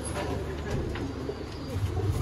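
Sialkoti breeder pigeons, a kind sold as 35-wale breeders, give low, soft, continuous cooing over a steady ambient background, with no talk.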